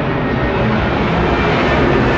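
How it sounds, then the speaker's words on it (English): A propeller or jet airplane passes overhead outdoors, a steady, loud broadband engine roar holding throughout with no pauses and no voices. "We're gonna wait for the plane."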